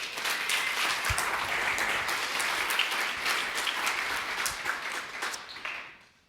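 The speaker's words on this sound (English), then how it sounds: "let's give him another round of applause" An audience at an academic symposium keynote gives a sustained round of applause, dense steady clapping at full strength that fades out in the last second.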